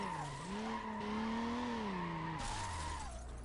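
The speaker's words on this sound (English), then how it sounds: "Dude, stop drifting for fuck's sake." Tires squealing as a car drifts in the Need for Speed racing game, a sustained, pitch-bending screech over engine drone lasting a few seconds, with no talking.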